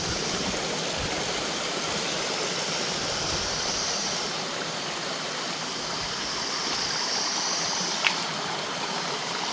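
Forest stream flowing at night in the cold season, a constant soft rushing and trickling wash of water with one small click, no voices.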